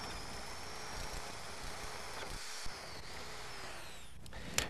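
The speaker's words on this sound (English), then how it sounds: "For the edge hole, use a 1-inch spade bit in the drill." A power drill with a 1-inch spade bit bores the edge hole of a door, giving a steady whirring drone throughout with a couple of brief knocks near the end, no speech.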